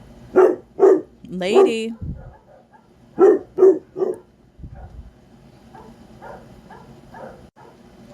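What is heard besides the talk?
dogs barking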